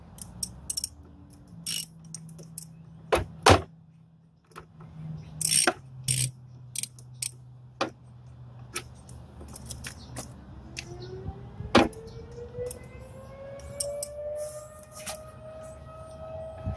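Ratcheting clicks from a 10mm socket wrench loosening the battery terminal on a 2006 Nissan Pathfinder, coming in short close bursts separated by pauses, with a faint mechanical hum running underneath.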